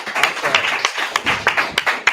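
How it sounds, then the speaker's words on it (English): Scattered clapping from a small audience greeting a guest speaker in a course session, a handful of sharp separate claps, fairly quiet with a cheer mixed in. "give Nate a round of applause"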